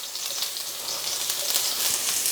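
Chopped ginger and chilies hit about two tablespoons of hot oil in a pan, giving a steady, loud, close sizzle that runs without pause and with no talking.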